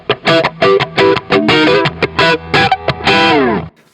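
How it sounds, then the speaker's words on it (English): A Stratocaster's single-coil pickup through a Lerxst Omega amp gives loud, overdriven picked notes and chord stabs in a stuttering rhythm, ending on a ringing chord with a bend. "And then you can hear the single coil side of it."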